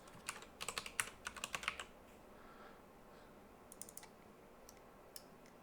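Quiet keystrokes on a computer keyboard while entering a name into a search field in Unreal Engine: a quick burst of clicks at first, then a pause, then a few scattered taps, with no talking.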